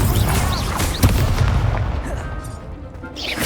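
A fire spell is cast in Hogwarts Legacy: a loud roaring whoosh with a sharp crack near the one-second mark, then a fading hiss and crackle, and a fresh swell of rushing flame at the very end.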